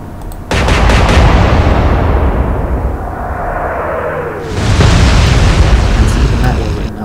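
Naval guns firing in the Atlantic Fleet video game: a sudden loud, sustained roaring blast that fades, then swells again into a second rumbling wave, close and dominating.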